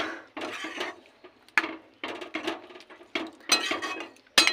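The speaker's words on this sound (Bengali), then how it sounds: "মিশিয়ে ঢাকা দিয়ে দেবো।" A spoon stirs a pot of lentil fritter curry with ghee and garam masala, giving a run of sharp metallic clinks and scrapes in uneven bursts, close and alone.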